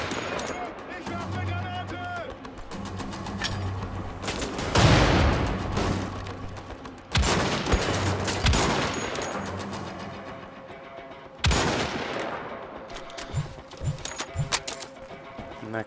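Gunfire from Wolfenstein: The Old Blood, with sharp repeated shots and bursts that swell into loud blasts near five, seven and eleven seconds, set over a busy game soundscape with a voice talking throughout.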